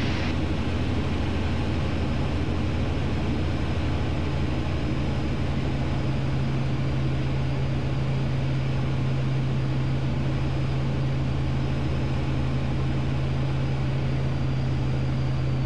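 A Sling TSi light aircraft's engine drones steadily in flight, a loud, constant propeller hum filling the cabin without a break.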